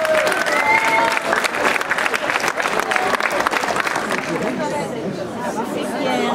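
A crowd at an outdoor festival in Bessines-sur-Gartempe breaks into strong, sustained applause mixed with loud chatter and talking voices, the clapping easing somewhat toward the end while the chatter carries on.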